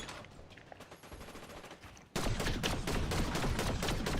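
Video game gunfire crackles in rapid bursts, faint at first, then jumps to a loud, dense volley of shots partway through.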